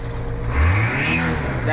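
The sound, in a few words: car engine with suspected exhaust manifold leak or turbo noise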